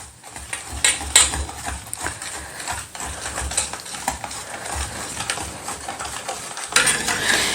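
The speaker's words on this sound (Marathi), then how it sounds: "आता हे व्यवस्थित मिक्स करून जोपर्यंत हा गूळ पूर्ण विरघळत नाही तोपर्यंत आपल्याला हे मिक्स करून घ्यायचं आहे" A spoon stirs jaggery, milk and vanilla in a pot until the jaggery dissolves, giving a steady run of scraping and soft clattering that stays close and fairly loud, with no talking.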